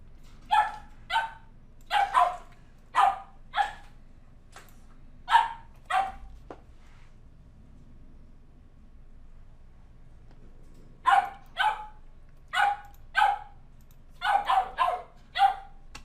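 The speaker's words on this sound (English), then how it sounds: "Don't mind the little doggy in the background." A small dog barks in the background in quick bursts of sharp yips, two clusters separated by a quiet pause, moderately loud against a near-silent room.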